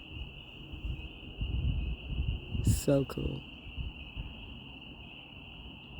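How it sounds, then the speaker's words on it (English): Tree frogs call from a creek after storms, a steady high continuous trilling chorus over outdoor rumble, with a person speaking briefly in the middle. "The tree frogs are super active today."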